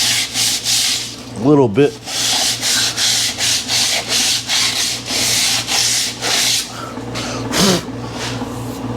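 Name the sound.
sanding glazed drum brake pads with 80 grit sandpaper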